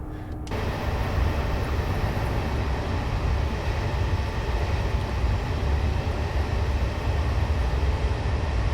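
A train in Train Sim World 2021 runs with a steady, loud rumbling roar and hiss that holds evenly throughout after a sudden start, with no talk over it.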